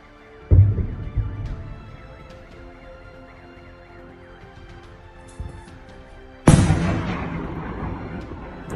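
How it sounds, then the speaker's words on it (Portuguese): Two heavy booms from explosions in Melitopol roll in from a distance several seconds apart, each followed by a long fading rumble, with a faint pop between them. "Só dá para ouvir os tiros aqui, as bombas explodindo aqui."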